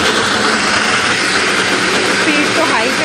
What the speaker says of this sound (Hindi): अब ब्लेंडर को चलाएंगे, पहले स्लो स्पीड